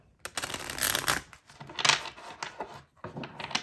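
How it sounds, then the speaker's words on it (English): A custom tarot deck being shuffled by hand, with dense papery riffling bursts and card slaps in several quick rounds, close and moderately loud with no talk. "Oh, that was a bad shuffle."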